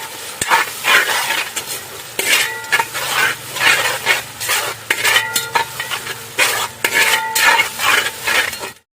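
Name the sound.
crushed ginger and garlic frying in oil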